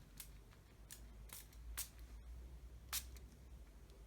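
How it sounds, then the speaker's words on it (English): A fine-mist water spritzer spraying onto the back of a papercraft card, several short soft hissing puffs spaced irregularly over quiet room tone, close and faint. "It's a very, very fine spray on this spritz."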